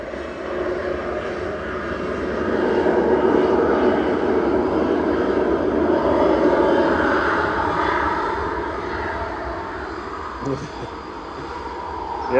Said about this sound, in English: Ellen, you say 320 about to touch down from Dublin